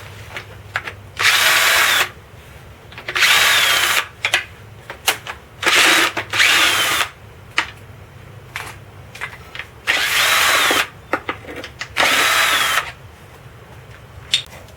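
A power drill backs out bolts during cylinder head removal on a 7.3L PowerStroke diesel: about seven loud, close whirring bursts of one to two seconds each, separated by short clicks, clanks and quieter gaps.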